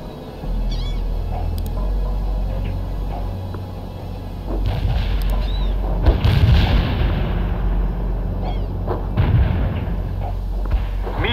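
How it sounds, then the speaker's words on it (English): A medium artillery barrage in World in Conflict lands as a series of loud, deep booms over a steady low rumble. The impacts grow heavier midway, and faint high chirping sounds are scattered through it. "Medium artillery. The barrage is on the way."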